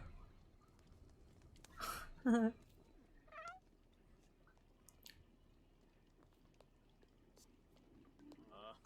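Cats meow in The Sims 4, with a few short, faint cries and a louder pair of meows scattered over quiet background sound.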